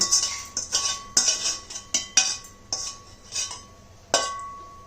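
Toor dal and dried chillies drop into a steel mixer jar with a run of bright metallic clinks and taps, roughly a dozen irregular hits close by, each ringing briefly, with no talking.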